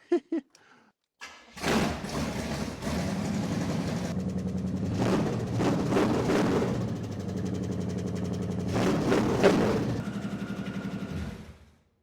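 A Cadillac 500 V8 swapped into a vehicle starts up and runs at a steady loud idle, rising with a few revs before cutting off, after some brief knocks at the start.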